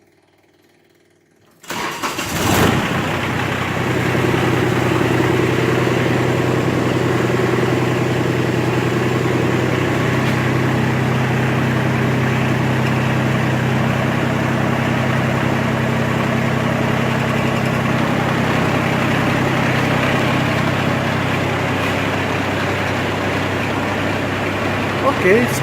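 A tractor engine cranks and catches after a quiet start, then settles into a steady loud idle with a low droning hum that runs on without a break, while a voice speaks over it at times.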